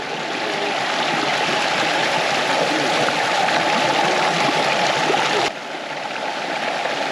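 Water flows steadily over a forest stream in Pisgah National Forest as a dog crosses it, a loud continuous rushing and gurgling that drops slightly in level near the end.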